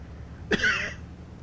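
A single short, sharp cough close up, followed by a brief rasp, then quiet background.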